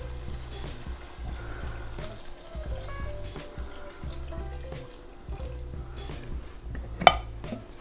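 Homemade chicken stock pours into a pot for broccoli and cheese soup, a steady liquid splashing and trickling with faint clinks of cookware, close by and without talk.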